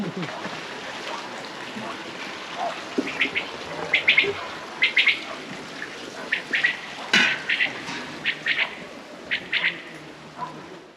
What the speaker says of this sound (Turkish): Kuşlar orada.